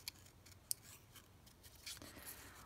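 Scissors trimming paper during a paper craft session: faint, close snips and a soft rustle of paper, quiet and brief, with no talking.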